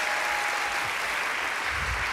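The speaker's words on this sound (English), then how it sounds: "Can we give the leadership and the staff a round of applause?" Church congregation applauding the leadership and staff, a steady wash of many hands clapping that fills the whole clip at an even, moderate level with no voices breaking through.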